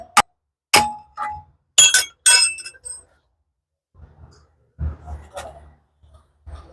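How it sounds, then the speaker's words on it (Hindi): A loose bearing spacer from a Royal Enfield Classic 350 handlebar gives a few sharp metallic clinks and rattles up close, then goes quieter with faint knocks and a low murmur. "तो ये इसका बेयरिंग स्पेसर है, और ये आवाज़ कर रहा है।"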